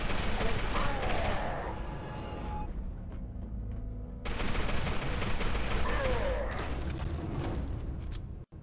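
Rapid gunfire from the shooter game F.E.A.R. 2: Project Origin, with dense bursts and mechanical clatter that stay loud and steady, drop to a quieter stretch midway, then return with heavy firing.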